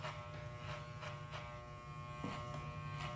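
Electric hair clipper buzzing steadily at close range while cutting a discreet modern mohawk, its constant drone broken by repeated brief scraping bursts as the blade passes through hair.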